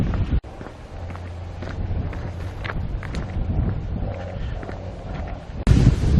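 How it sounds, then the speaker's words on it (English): Strong wind gusts buffet the microphone during an outdoor walk along a minor road on the Robin Hood Way between Farnsfield and Halam, a steady broadband rush with a sharp dropout near the start and a louder gust at the end. "Very windy suddenly,"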